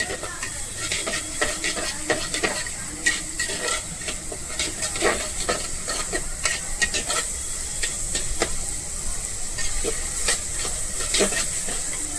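Ginger garlic paste frying in a pot for matka chicken crackles with a loud, busy sizzle, dotted with sharp spattering pops and stirring scrapes throughout.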